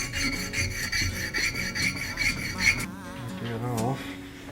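Steel woodworking tool blade rubbed back and forth on a coarse sharpening stone, a steady rasping scrape repeating in quick strokes, close and fairly loud, fading out partway as a brief hum follows.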